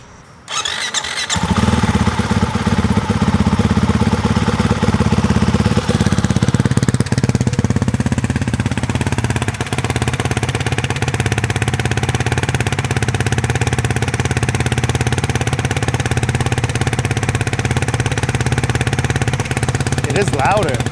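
A motorcycle engine fitted with an aftermarket Akrapovic exhaust cranks, catches and settles into a loud, steady, throaty idle with a deep rumble that carries on without pause.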